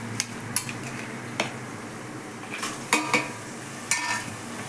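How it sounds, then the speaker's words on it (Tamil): Chicken being sautéed in oil in a pan with softened onion and tomato, with a steady low sizzle under scattered clinks and scrapes of a spoon against the pan. "சிக்கன் போட்டு நல்ல எண்ணெயில் ஒரு 2 நிமிஷம் நல்லா வதக்கி விட்டுணுங்க."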